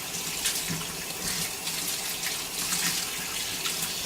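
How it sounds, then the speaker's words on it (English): Tap water runs steadily into a kitchen sink while beef tripe for menudo is rinsed under it. A continuous, close splashing hiss runs throughout with no talking. "Just rinse it off real good."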